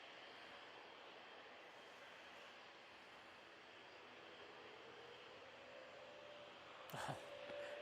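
An Embraer jet at Manchester Airport gives a steady, fairly distant engine roar that holds evenly throughout, with a brief louder burst of noise near the end.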